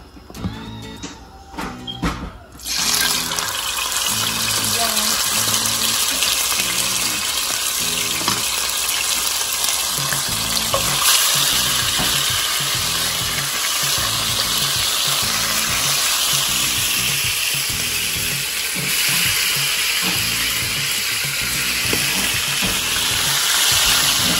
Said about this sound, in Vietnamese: mình chiên sườn cho nó vàng